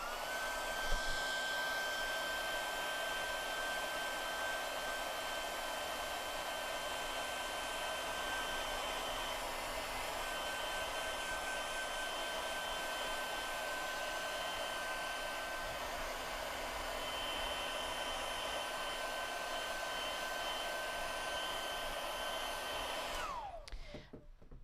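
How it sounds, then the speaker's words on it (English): A hair dryer runs steadily for about twenty-four seconds drying ink, a constant close whooshing hum with a high whine, then cuts off abruptly at the end. "Hair dry it quickly."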